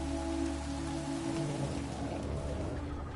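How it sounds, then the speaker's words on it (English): Steady rain falls in The Witcher 3, a dense continuous hiss of drops on surfaces with a low ambient hum underneath, no voices. "Looks like rain."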